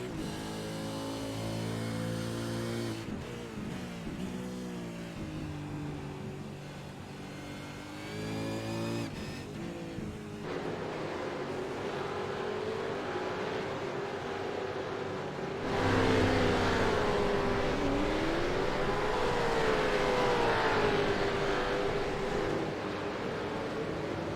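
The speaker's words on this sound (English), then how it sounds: "Oh, how good do these cars sound" Race car engines roar in a racing video game, a continuous loud multi-car drone with rising and falling revs and gear shifts, growing busier and louder partway through as more cars pass, with no talking.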